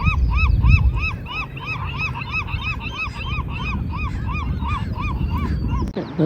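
Gulls call from a harbor rooftop by a fishing boat landing, a loud, steady series of repeated honking cries close by, layered over one another without pause.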